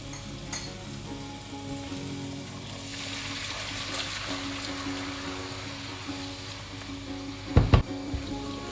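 Whisked yogurt poured into frying masala for beef paye, a steady close sizzle that swells as it hits the hot oil, ending with a couple of sharp knocks of a utensil against the pan.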